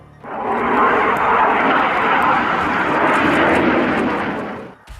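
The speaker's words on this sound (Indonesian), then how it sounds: "Yak-130 adalah jet tempur yang didesain untuk latihan dan pertempuran" A Yak-130 two-seat military jet trainer produces a loud, sustained broadband roar that swells in quickly, holds steady for several seconds, then drops away.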